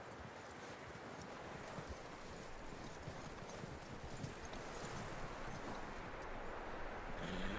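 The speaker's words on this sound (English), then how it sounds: "That looks like a decent horse. You should keep him. Tie him up over there, Arthur." Horse hooves in Red Dead Redemption clip-clop in a steady rhythm at a moderate distance, set against a wind-like background hiss, with no talking.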